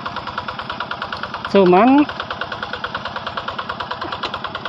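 A Quick G600 hand tractor with a Yanmar TF 65 engine idles close by in a steady, even chugging rhythm, with a short burst of a voice speaking over it partway through.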